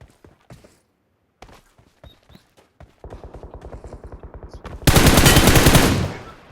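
QBZ rifle gunfire in the battle royale game PUBG: scattered single shots and footsteps lead into a rapid automatic burst, then a louder, denser volley close up near the end.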